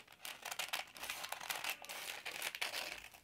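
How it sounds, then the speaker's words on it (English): Paper bag being cut into strips for a journal, a dense run of close, quiet crinkling and rustling paper with small snips, steady throughout with no talking. "Cut them into strips."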